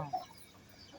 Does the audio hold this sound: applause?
no